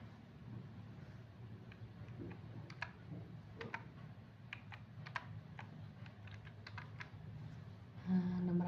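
Keys tapping on a computer keyboard in a light, irregular patter of soft clicks over a low steady room hum, fairly close and quiet.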